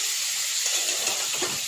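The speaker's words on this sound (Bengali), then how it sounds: "আমি এখন দিচ্ছি লঙ্কার গুঁড়ো, জলের সাথে গুলিয়ে রেখেছি, সেটা দিয়ে দিচ্ছি" Chili powder stirred into water is poured into a hot pan of potol rosha curry, giving a steady close hiss and sizzle with a few soft bubbling bursts, no talking.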